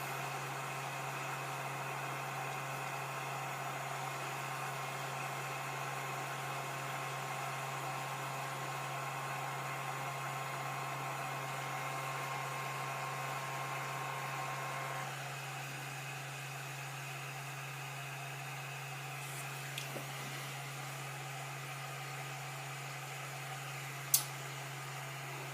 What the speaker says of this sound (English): slide the bed forward after the print, but I probably chose the wrong command since it's sliding it at a snail speed.